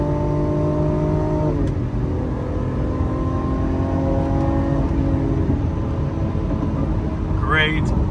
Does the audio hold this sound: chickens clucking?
no